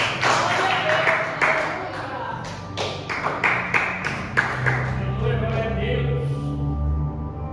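A church congregation claps at a service. Uneven individual claps and taps are close by over a room murmur. A voice speaks briefly near the end as the clapping fades.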